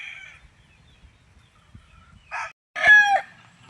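A gamefowl rooster, a six-month-old straight-breed bird on a farm in Tagaytay, lets out one loud nearby crow after a short faint call, with quiet farm background around it.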